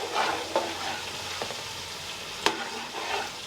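Tamarind fries in a pan while being prepared for amla pickle, giving a soft continuous sizzle with occasional stirring taps and one sharper knock, close by and without talking.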